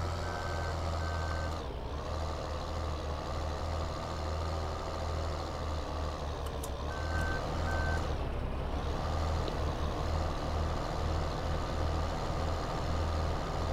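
Reversing beeps from a truck in the farming game Landwirtschafts Simulator 15 repeat at an even pace over a constant loud engine drone, with a brief hiss like an air brake partway through.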